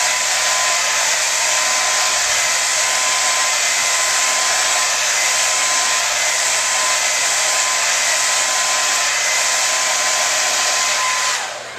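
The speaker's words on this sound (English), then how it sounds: "take that flat brush and just blow dry it" Hair dryer blow drying sideswept bangs over a flat brush, a loud, steady close-up roar with a constant whine, running without a break and cutting off at the very end.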